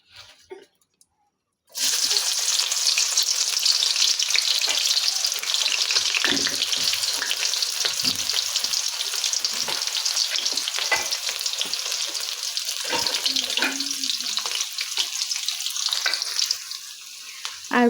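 Chicken fries in hot oil in a wok, giving a loud, continuous sizzle with occasional stirring scrapes after a brief quiet start.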